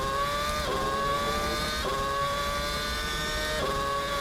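A McLaren MP4/22 Formula 1 car in a video game accelerates at high revs, its whining engine note rising steadily and dropping sharply at each of several quick upshifts.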